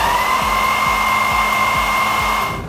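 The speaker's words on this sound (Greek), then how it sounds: "Πρέπει τώρα να πάρουμε το πιστολάκι μαλλιών" A hair dryer blows steadily and loudly at close range, used during a manicure to gently warm metallic nail film, a constant whirring hum with a strong tone that runs throughout with no speech.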